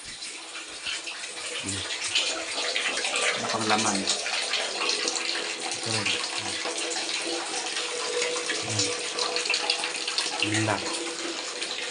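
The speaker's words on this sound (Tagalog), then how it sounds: "So ngayon lang dumating ang tubig." Tap water gushes steadily from a household faucet as the supply comes back on, a continuous hissing flow, while people talk nearby in short exchanges over it.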